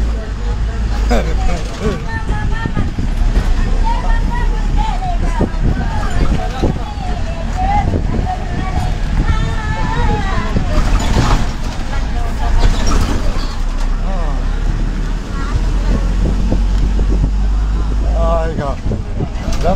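An APSRTC bus rumbles along the road from Tenali to Kothurulanka, a steady loud engine and road roar with rattles and passengers chattering throughout.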